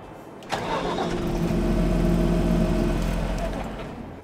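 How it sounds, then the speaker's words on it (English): Farming Simulator vehicle engine starts and runs steadily, a loud continuous mid-pitched drone with a low hum, swelling after the start and tapering slightly at the end, with no talk over it. "I'm gonna be quiet so you guys can hear that engine."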